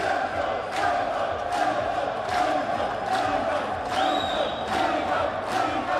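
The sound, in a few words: crowd cheering and chanting player names at a pool final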